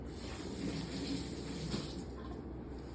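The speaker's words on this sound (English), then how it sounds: "to keep the dough from sticking to my hands, I'm going to get my hands wet" Water running from a kitchen tap over hands before kneading bread dough, a steady close splashing stream that thins slightly toward the end.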